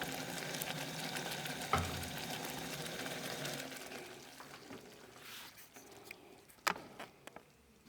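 Tomato sauce simmering in a pot, a soft continuous bubbling hiss that thins out toward the end, with a few small clicks and knocks, no talking.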